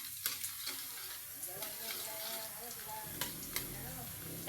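Garlic and ginger frying in hot oil until golden brown, a continuous bright sizzle with occasional stirring clicks, and a voice talking faintly underneath.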